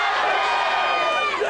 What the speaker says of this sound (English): the competition started with President Maury Ditzler's cheer